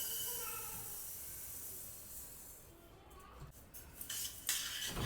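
Sesame seeds dry-roasting over low heat in a pan, stirred continuously, giving quiet scraping and light metallic clinks of the utensil against the pan, growing slightly busier toward the end.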